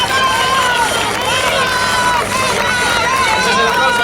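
Outdoor crowd at the Gijón 10K road race cheering and applauding runners, a steady dense roar of claps and voices throughout, with a loud announcer-style voice and whistles riding on top.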